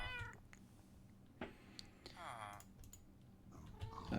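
A Minecraft cat by a village cat house gives a clear, rising-and-falling meow midway, with soft keyboard clicks and quiet game sounds around it.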